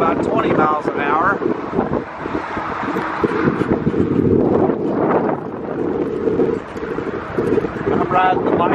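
Wind gusting at about 20 miles an hour buffets the microphone while a bike rides slowly past towers, a steady rushing roar beneath someone talking.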